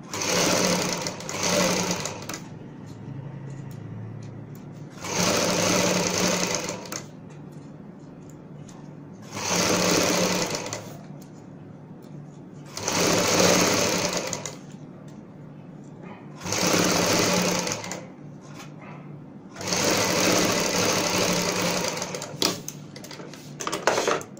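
A sewing machine stitches lace and a trim strip onto the hem of palazzo pants. It runs in six steady whirring bursts of a few seconds each, with short pauses between them.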